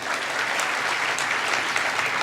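An audience at a lively birthday gathering breaks into loud, continuous applause, a dense wash of many hands clapping steadily throughout with no voices above it.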